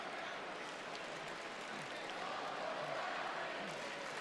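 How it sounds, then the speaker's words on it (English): Sold-out wrestling arena crowd roaring and chanting for Uncle Howdy during a match, a dense, steady wall of massed voices and cheering that swells slightly midway. "the Uncle Howdy chants from a sold-out crowd tonight"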